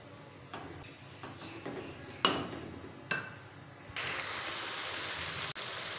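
Chickpeas being stirred and sautéed in a pan for Lahori kali mirch chana, with a spoon scraping and clacking against the metal over a steady sizzle that swells louder toward the end.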